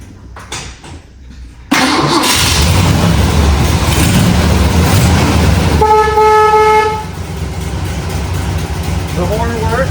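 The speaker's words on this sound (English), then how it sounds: "Start this car up." A 1969 Ford Cobra 428 Super Cobra Jet with drag pack and four-speed cranks and fires up into a loud, rumbling idle close by. Several seconds later a brief horn toot sounds over the running engine.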